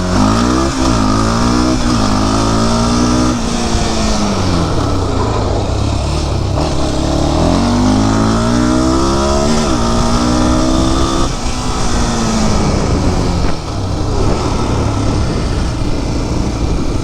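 Modified Honda 400EX ATV with stock header pipe, its engine revving up and down repeatedly as it rides, loud and close, with rising and falling pitch sweeps and no talking.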